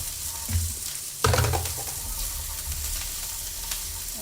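Onions, celery and carrots frying in a pot for roast beef soup, a steady close sizzle with a brief clatter of vegetables dropping in and stirring partway through.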